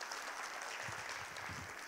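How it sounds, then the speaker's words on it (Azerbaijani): An audience at a business forum panel applauds, a dense close burst of clapping from many hands that holds steady throughout. "Alqışlayın."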